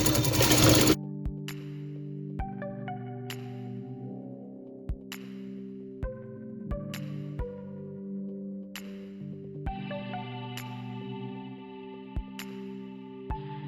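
A domestic sewing machine stitches fabric for a baby bonnet. It runs in a steady mechanical hum with regular needle clicks, after a brief loud burst of fabric handling at the start.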